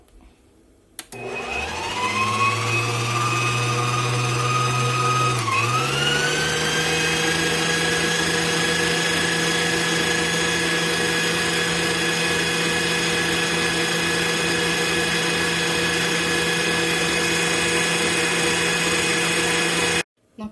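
An electric mixer whirs through cheesecake batter with flour, starting abruptly, dipping briefly in pitch, then holding a loud steady high whine for most of the stretch before cutting off, with no talking.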